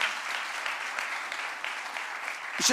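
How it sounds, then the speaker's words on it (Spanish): Audience applause sending off two guests at a youth talk event, steady dense clapping at moderate level, with a sharper louder rise of claps near the end. "¿Les parece si lo despedimos con un fuerte aplauso?"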